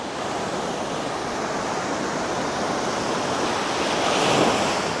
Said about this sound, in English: Sounds so peaceful, doesn't it, with the waves crashing.